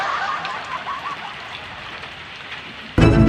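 Steady rain pours down in a continuous hiss, moderately loud and close, holding even throughout before a sudden louder burst at the very end.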